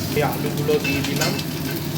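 Frying sizzle from a pot of bhog khichuri as potatoes go in after cauliflower and carrots, a steady dense crackle with some stirring, close and fairly loud throughout, with no talk.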